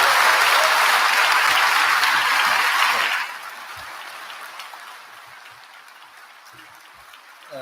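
Graduates give a loud, dense round of applause that runs steadily for about three seconds, then drops off sharply to a faint scattered patter and room murmur.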